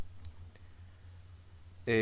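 A computer mouse gives a few sharp, quiet clicks against a near-silent room while working in Revit, and a voice starts speaking at the end.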